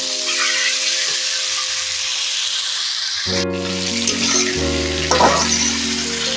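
Chicken sizzling and being stirred in a pan over a low flame on a clay stove, a loud continuous frying hiss with tonal hum partway through and occasional stirring scrapes.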